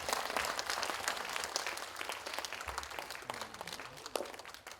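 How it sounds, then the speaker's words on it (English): Audience applause at a university establishment day and farewell function, a steady spread of clapping from a standing crowd that carries evenly through the whole stretch at moderate volume, no voices on top. "Let's clap."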